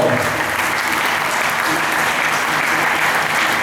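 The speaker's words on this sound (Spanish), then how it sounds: "Antonio, aplauso para Antonio, por favor" A crowd applauds Antonio at a gathering, loud, dense clapping from many hands that holds steady from start to finish, close and continuous.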